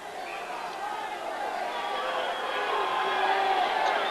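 A hockey arena crowd at a Skipjacks home game murmurs and grumbles in a broad, restless hubbub that swells slightly, with no distinct voices standing out.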